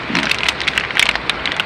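Rain falling, heard as irregular close patters and drops striking a surface, with a light, uneven crackling texture throughout.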